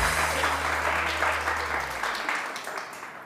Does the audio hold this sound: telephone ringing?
no